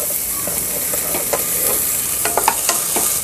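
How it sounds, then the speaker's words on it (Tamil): Onions, curry leaves and green chillies sautéing for chicken soup, with a loud continuous sizzle broken by close, sharp scrapes and taps of a spoon against the pan. "நல்லா வதக்கி விட்டுக்கலாங்க"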